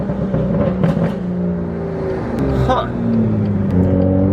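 BMW M2 with an N55 engine revving while driving, a steady engine drone with rising and falling harmonics as the revs climb, heard from inside the car with a short spoken remark partway through.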